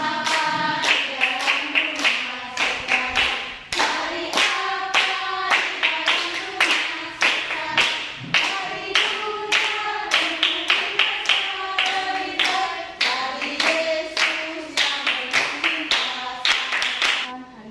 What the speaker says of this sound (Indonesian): Berikan aplaus dulu untuk semua.